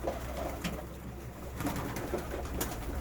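Flock of about forty pigeons cooing during morning feeding, soft overlapping coos and rustling continuing steadily close by with no talk.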